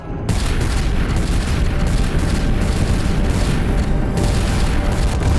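Heavy weapons fire against the Celestial Accuser in the Guardians of the Galaxy video game, a loud, continuous roaring barrage of booms and blasts that holds steady without a break.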